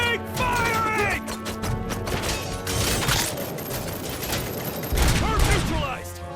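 Dense, continuous gunfire fills the scene in RoboCop: Rogue City, with rapid automatic bursts, heavy impacts and crashes piling up loud and close, mixed with busy combat effects.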